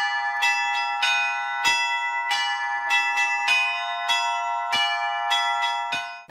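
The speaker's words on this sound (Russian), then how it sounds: "После богослужения позвонили все в колокола." Church bells of a Russian Orthodox church ring out after a service in an irregular, overlapping peal, bright metallic strikes with long ringing tones, fairly close and with no voices.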